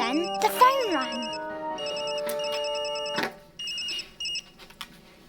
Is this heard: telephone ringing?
yes